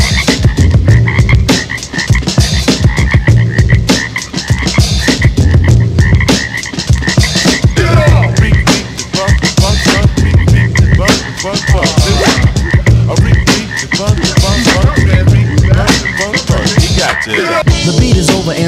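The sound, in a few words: frogs croaking in a music track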